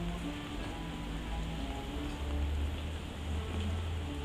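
Steady rain falls outdoors as a soft continuous hiss with a low rumbling undertone, even and unbroken with no voices.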